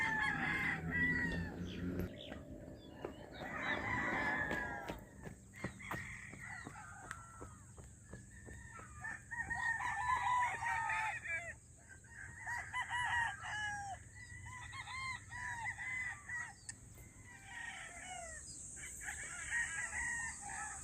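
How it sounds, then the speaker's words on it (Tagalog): Roosters crow repeatedly, several calls rising and overlapping at moderate distance, with a steady high hiss and faint clucking in the background. "Maingay ang mga manok."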